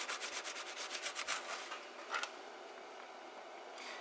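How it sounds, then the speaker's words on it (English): A water-damaged NuTone IM3003 intercom master station circuit board being scrubbed with alcohol: quick, rhythmic brushing strokes up close that soften into a steady light rubbing. "Scrub it clean."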